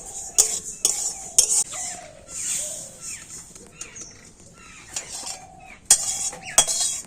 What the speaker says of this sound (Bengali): ঠিক এইভাবে করে তিলটা ভেজে নিয়েছি আর এবার আমি তিলটা নামিয়ে নেবো